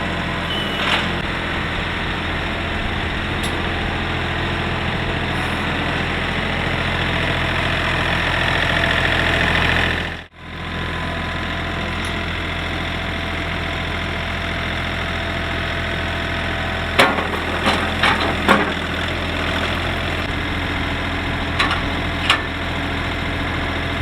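A tractor drags a box blade with its ripper shanks fully lowered through a long gravel driveway of limestone: a steady, loud diesel engine drone under load throughout, with a brief dip mid-way and scattered crunches and clanks later on.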